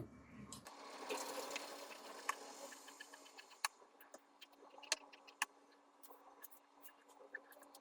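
Fabric scissors cut through blouse cloth at a tailoring table, giving a scattering of faint, close snips and clicks over a quiet background with no voices.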